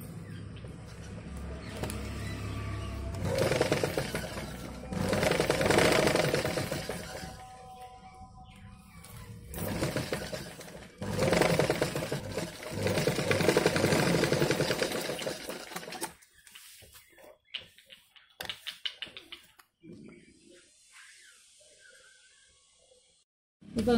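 A home sewing machine stitches the side seam of a blouse in several loud bursts, each a few seconds long, separated by short pauses, then goes quieter with scattered handling sounds near the end.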